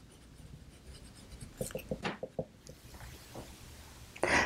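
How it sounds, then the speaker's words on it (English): A pen writes fabric measurements for an ottoman slipcover, a close, quiet series of short scratchy strokes in quick bursts, ending with a brief louder rustle. "So I'm going to write that I need 4 flaps."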